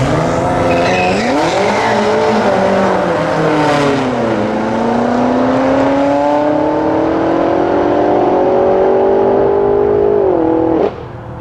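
A tuned BMW F90 M5 revs hard at a drag strip, the wheels spinning with a loud, sustained tire squeal over the rising and falling engine roar until it cuts off near the end.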